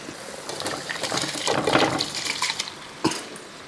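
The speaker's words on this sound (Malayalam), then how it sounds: "നമുക്ക് ഈ തിളയ്ക്കുന്ന വെള്ളത്തിൻ്റെ അകത്തോട്ട് ഈ അരി ഇട്ട് കൊടുക്കുക" Rice poured into a pot of boiling water while making Manjali chicken biryani, giving a sustained watery rush and splashing that peaks midway, then a single sharp clunk near the end.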